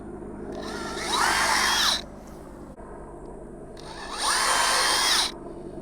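Two short bursts of a small power drill, a drill bit cleaning out a hole, each spinning up and winding down over about a second, with a quiet pause between.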